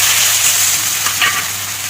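Whole cumin seeds fry in hot oil alongside whole cardamom, cloves and cinnamon, giving a steady loud sizzle with a faint crackle partway through and no voices.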